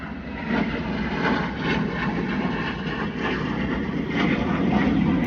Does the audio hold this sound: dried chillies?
no